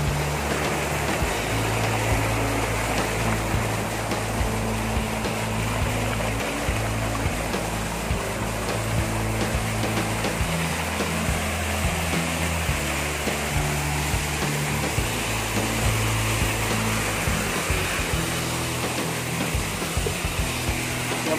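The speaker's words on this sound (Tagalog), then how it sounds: "ganyan po kalakas yung tubig" Strong river water rushes across a farm lot with waterfalls during the dry season, a dense, steady roar that holds at constant loudness throughout with no one speaking.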